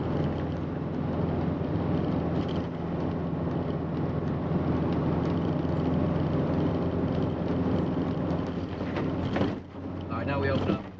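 A 1994 Isuzu Elf camper with a 4JG2 diesel engine cruises in fourth gear at about 35 mph, a steady droning engine with rumbling road and wind noise throughout, someone talking over it.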